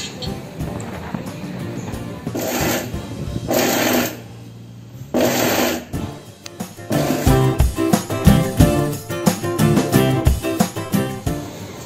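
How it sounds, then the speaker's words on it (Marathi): A kitchen mixer grinder gently pulsing sev and peanuts in short bursts, loud whirring runs separated by pauses, with rattling and clattering as the motor spins up and down, nearby and close. "मोकळी केलेली शेव व थोडेसे शेंगदाणे आपण मिक्सरवर हळूवार फिरवून घेणार आहोत"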